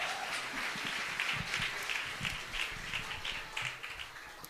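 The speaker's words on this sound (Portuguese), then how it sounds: "Você pode aplaudir a Jesus mais forte?" Church congregation applauding Jesus during a Baptist service, a dense steady wash of many hands clapping throughout at moderate loudness, with no voices standing out.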